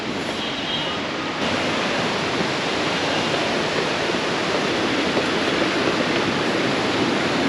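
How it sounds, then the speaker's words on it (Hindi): Pindar and Alaknanda rivers meeting at the Karnaprayag confluence in Uttarakhand, a loud, steady broadband rush of fast-flowing water, close and continuous throughout, with no voices. "ये आ रही है इधर से पिंडर और उधर से आ रही है अलकनंदा, और ये है संगम पॉइंट"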